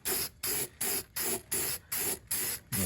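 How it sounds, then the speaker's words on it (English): Spray paint applied for corrosion protection during a Subaru STi frame repair, heard as eight even, closely spaced hissing bursts with brief gaps between them, near and fairly loud. "So I'm going to add some spray paint to have some corrosion protection."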